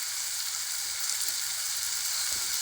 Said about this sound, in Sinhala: බලන්නකෝ මම ඒ ටික දාලා කලවම් කරගන්නවා.